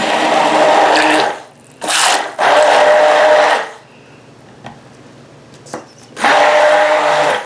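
An electric stick blender whirs loudly through soap batter being mixed for a red Christmas soap, running in three long bursts with short pauses and quiet gaps in between.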